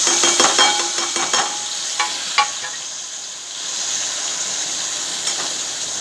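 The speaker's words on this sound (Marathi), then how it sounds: "टमाटर तेलात चांगलं भाजून घ्यायचं एक दोन मिनिट चांगलं भाजायचं" Tomato and onion gravy frying in hot oil for a potato curry, a bright constant sizzle with a flurry of spoon clicks and scrapes at first, then quieter continuous frying; no voices.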